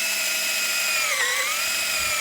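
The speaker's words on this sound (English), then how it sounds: "Now we're gonna switch it out to the small drill bit that we had." A power drill with a small bit bores into a motorcycle handlebar on a Vitpilen 401, a steady high-pitched whine that dips briefly under load, close and alone.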